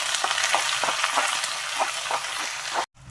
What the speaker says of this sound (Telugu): ఉల్లిపాయలు కొంచెం బాగా ఫ్రై అవ్వాలండి